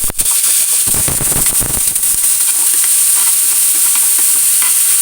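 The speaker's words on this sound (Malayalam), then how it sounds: "അതിലേക്ക് നമുക്ക് കുറച്ച് കടുകിട്ട് പൊട്ടിക്കാം" Mustard seeds spluttering in hot oil give a loud, steady, dense sizzle, with sharp crackling pops strongest in the first two seconds.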